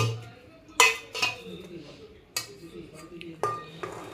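Washed chopped vegetables dropped into a pressure cooker, several sharp clanks and clinks of metal and pieces landing at close range, spaced irregularly, with a voice talking in between.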